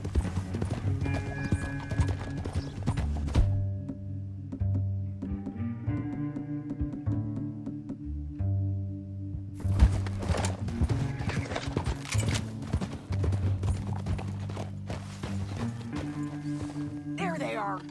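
Horse hooves clip-clop in the video game Red Dead Redemption 2, a steady rhythmic trot on the ground mixed with game music and saddle sounds, with brief whinnies and a voice talking over parts.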